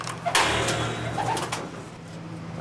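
A racing pigeon coos in a loft, giving a few soft, low rolling coos close by over faint background rustle.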